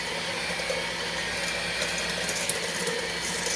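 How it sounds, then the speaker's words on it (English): An electric hand mixer whips powdered sugar for a keto chocolate fluff, giving a steady mechanical whir with rattling beaters in the bowl, moderately loud and continuous, with no talk. "I do not have a stand mixer at the moment, so I use my hand mixer."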